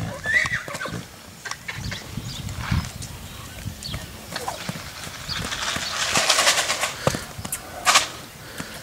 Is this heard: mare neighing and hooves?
yes